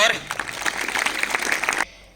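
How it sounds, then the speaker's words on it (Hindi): Audience at a Scout program welcoming a guest to the stage with a short burst of clapping, lasting under two seconds before cutting off abruptly. "नरेश जी के स्वागत में एक बार तालियां"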